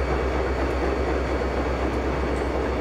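An SD40-2 diesel locomotive pulling a supply train from Essex to Kalispell in a train simulator, its engine holding a steady, loud low rumble over constant rail noise while accelerating.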